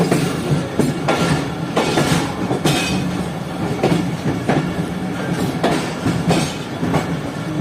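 The Rehman Baba Express passenger train runs through dense winter fog, with a steady clickety-clack of wheels over rail joints and a continuous rumble heard from inside the carriage.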